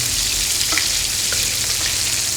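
Fish frying in a pan gives off a steady, dense sizzle and crackle, close and fairly loud, with a few faint ticks and no voices.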